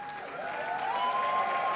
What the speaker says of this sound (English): A big round of applause, ladies and gentlemen, to the wedding couple, Kian and Penelope.